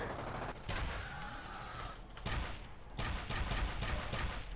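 Rapid gunfire from the F.E.A.R. video game, bursts of loud shots and fusillades firing in clusters across the clip, dense and close with a brief lull in the middle.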